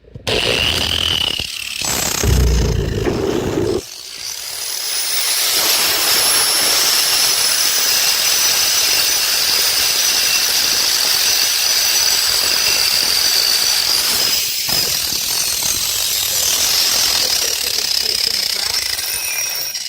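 A loud power tool chisels loose concrete out of a garage floor being prepared for epoxy, a harsh continuous hammering roar close up with brief pauses near the start and midway.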